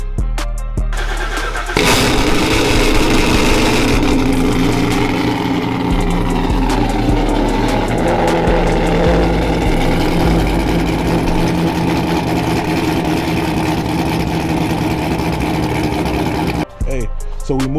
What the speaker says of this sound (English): cold start, and just know it's gonna be super duper loud